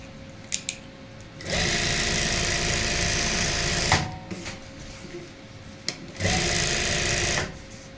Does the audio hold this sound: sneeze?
no